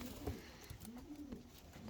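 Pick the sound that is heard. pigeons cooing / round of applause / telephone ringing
pigeons cooing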